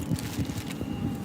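Gusty wind buffets the microphone outdoors, a low rumbling roar with uneven pulses across a brief moment, no voices.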